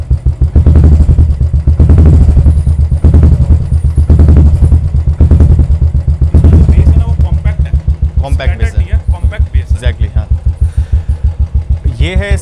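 A Royal Enfield motorcycle fitted with a Swagman silencer thumps loudly and close, with a deep, rapid pulsing exhaust beat that rises and falls as the throttle is blipped, then settles into a steady chugging rhythm.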